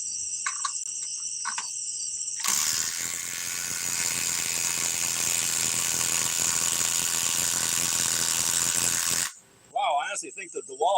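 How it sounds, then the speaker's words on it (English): A DeWalt 840 impact driver on a 4-amp battery pack runs in one loud, continuous whirring burst of about seven seconds, with quieter clicks and handling noises before and after. "this is the DeWalt 840 with a 4-amp power pack"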